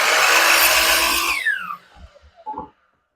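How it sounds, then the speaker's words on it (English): A miter saw whines loudly as it cuts through a wooden yard stake, then the blade spins down with a falling pitch, followed by a few light knocks and clatters of wood. "now let's jump over to the miter saw, and I'm gonna cut them out real quick"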